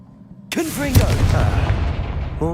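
A Confringo fire-blast spell goes off in the Hogwarts Legacy video game, a sudden loud burst that rolls on as a rumbling, crackling tail, with a voice-like cry partway through and another short tonal sound near the end.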